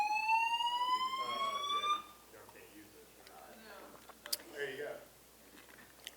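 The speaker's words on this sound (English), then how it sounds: "An alarm has been activated in the building." A building fire alarm sounds in a room, with a loud rising siren-like tone for about two seconds before cutting off. Quieter voices and room noise follow.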